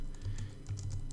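Quick bursts of typing on a computer keyboard, a short run of close, light key taps with a brief pause between them.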